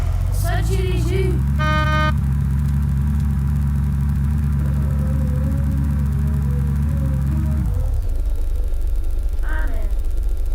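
A car in the video game Unturned idles and drives with a steady low engine drone and a short horn-like tone early on, then the engine cuts off, leaving quieter game ambience.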